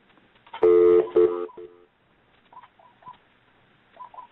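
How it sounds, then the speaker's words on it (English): Touch-tone telephone dialing while joining a WebEx conference call: a quick burst of loud DTMF tones, a short pause, then fainter scattered beeps and line sounds trailing off, with no talking. "I'm just trying to check the phone and see that the line is working."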